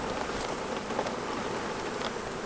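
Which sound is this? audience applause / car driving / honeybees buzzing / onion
honeybees buzzing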